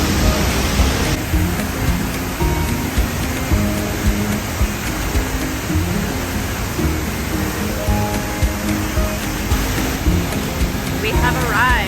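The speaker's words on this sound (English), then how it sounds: "Just a few more steps and we will arrive at the base of the waterfall." Waterfall at La Fortuna heard near its base, a steady broadband roar of falling water that fills the whole stretch without a break; a faint voice sits under the rush.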